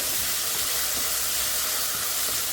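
Ginger and green chilies sizzle in hot oil over a low flame while okra fry is prepared, a steady, soft, close hiss that continues evenly throughout with no talking.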